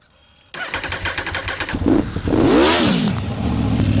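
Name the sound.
motorcycle engine being started and revved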